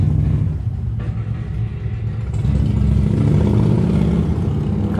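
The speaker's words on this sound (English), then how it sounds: "couple of pretty awesome Harleys just went by" Harley motorcycles rumbling past nearby, a loud deep engine drone that eases briefly and then swells again as more bikes go by, with no talking over it.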